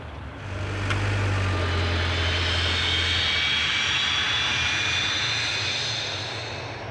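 An Italian military trainer aircraft performs an aerobatic display at the 2010 Göteborg Aero Show, its engine a loud, steady roar that swells in and holds for several seconds, with no talk.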